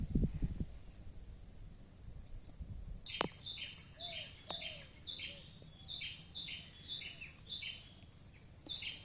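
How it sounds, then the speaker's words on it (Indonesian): Birds chirp with repeated short calls over steady insect buzz in a mangrove forest at Medokan Ayu, fairly faint, with a brief rustle near the start. "Semakin banyak burung-burung yang berkicau untuk mempersiapkan diri dalam menikmati suasana istirahatnya"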